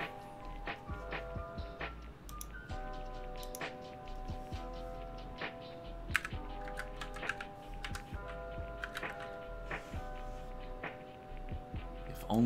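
Rapid, uneven clatter of keys on a computer keyboard, close and fairly quiet, in bursts of quick taps with brief pauses between them.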